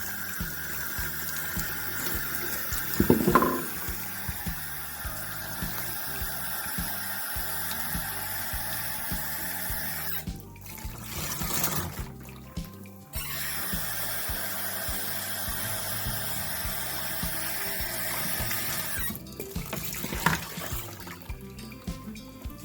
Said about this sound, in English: I'm going to turn the water on, so it's going to be a little loud.